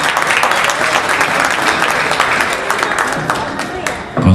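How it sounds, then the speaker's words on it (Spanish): A crowd breaks into loud, dense applause for children's dance groups from a school at a folk festival, carrying on steadily and fading slightly toward the end. "Fuerte el aplauso para los chicos."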